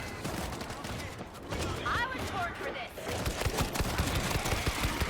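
Rapid gunfire from the zombie shooter World War Z, dense bursts of automatic shots crackling continuously over game noise, with a voice talking throughout.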